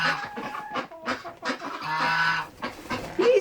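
Chickens cluck and squawk loudly nearby in a busy, overlapping jumble, with a few sharper honking calls standing out.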